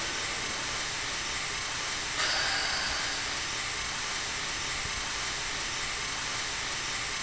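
Steady broadband hiss of a steam engine in Train Simulator, continuous and fairly loud throughout, with a brief brighter burst of venting steam around two seconds in.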